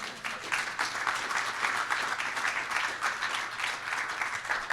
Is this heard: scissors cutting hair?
no